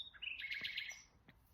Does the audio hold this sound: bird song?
yes